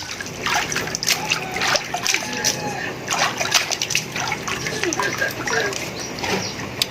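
Cooked ketupat rice cakes being dipped into water, giving a steady run of splashing, trickling and sloshing throughout, close by with some background noise from a village during Hari Raya Idul Fitri.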